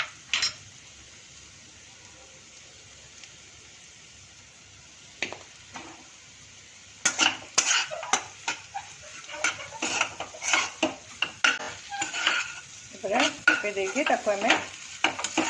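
Masala paneer bhurji with spices frying in a pan, a quiet sizzle at first, then busy, close metal scraping and clattering as a utensil stirs against the pan, with a brief spoken remark.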